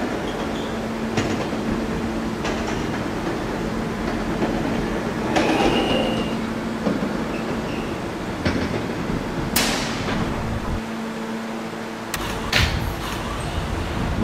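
A D subway train rolls to its last stop at Rentar Plaza, a steady loud rumble and hum with clanks and rattles of the cars, a door-like thump and squeal near the end; no voices.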